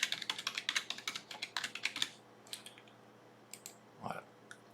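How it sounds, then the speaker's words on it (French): Rapid keystrokes on a computer keyboard enter an IP address, a quick close burst of clicks that trails off into a few scattered taps. "je tape l'adresse IP cible"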